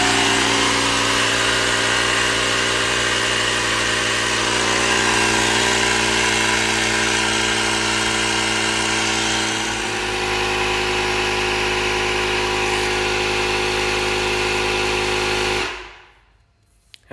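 Ryobi 18V ONE+ dual-function inflator set to 39 PSI, pumping air into a car tire: a steady, loud motorized drone with a continuous buzzing hum that runs unbroken for about fifteen seconds, then cuts off abruptly.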